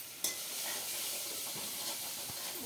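Coriander leaves and turmeric frying in oil in a pan, a steady close sizzle with occasional stirring scrapes and a sharp clink near the start, no voices.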